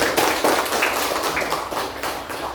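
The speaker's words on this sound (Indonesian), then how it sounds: "Kita beri tepuk tangan dulu." Steady applause from a class group after a presentation, a dense patter of clapping that holds at an even level for a couple of seconds with no talking.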